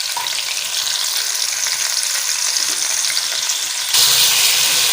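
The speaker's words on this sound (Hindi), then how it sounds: "फ्रेश बीन की फलियों के लिए हम बोनलेस चिकन डाल रहे हैं। इसको फ्राई कर लेते हैं।" Boneless chicken frying in hot ghee, a loud close hiss of steady sizzling that swells even louder near the end, with no talking.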